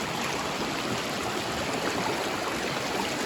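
A babbling mountain stream rushes over stones in Konkan forest, a loud, close, unbroken wash of water with no pauses.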